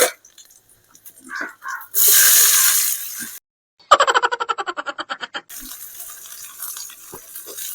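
Onions drop into hot oil already holding cinnamon, chili and ginger for a potato curd curry. A loud hiss bursts up, then a quick series of rattling pulses follows, settling into a steady, softer sizzle close by.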